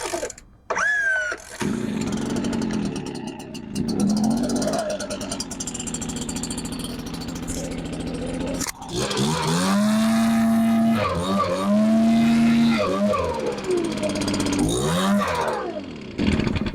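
A Stihl leaf blower is pull-started after priming and choke, its engine sputtering to life, then revving and idling loudly up close, cutting out and restarting with rising and falling pitch.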